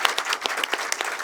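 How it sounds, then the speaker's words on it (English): Audience applause at a film premiere Q&A in Bristol, dense hand clapping from a seated crowd, steady and fairly close throughout. "another round of applause for that ensemble cast as well"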